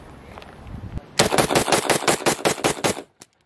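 A Galil Ace Gen 2 rifle fires a partially loaded magazine of surplus steel mags in one rapid string of about a dozen loud, close shots, then stops, with a single trailing report.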